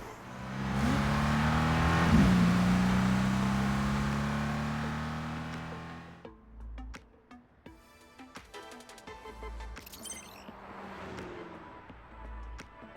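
A sports car in the video game Love and Deepspace roars as it accelerates hard, its engine revving loud and close for several seconds before cutting out. Scattered clicks and faint engine noise follow.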